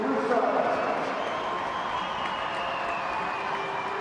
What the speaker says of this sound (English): a fine greeting from the crowd here at the Riverside